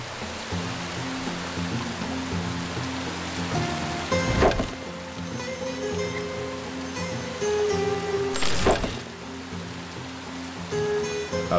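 Steady rain hisses across the landscape of The Settlers during the rainy season, a continuous wash of noise under a soft game music bed, with a couple of brief louder bursts.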